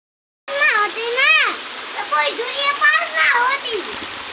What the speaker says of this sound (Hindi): ये देखिए बहुत तेजी से बारिश हो रही है